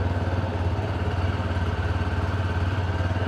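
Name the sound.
TVS Star City Plus motorcycle engine idling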